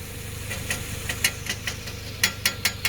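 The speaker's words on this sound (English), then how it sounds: "And then the engine's warming up good, and we're going to change the oil." A Subaru engine idles while warming up, steady low hum under a rhythmic ticking knock that repeats roughly every quarter second, close and moderately loud, with a few sharper taps near the end.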